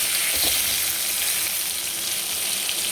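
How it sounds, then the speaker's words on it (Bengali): Fried potatoes and tomatoes crackle in a hot pan, a continuous close sizzle with a brief stirring scrape at the start. "এবার টমেটোটা দিয়ে একটু নাড়বো।"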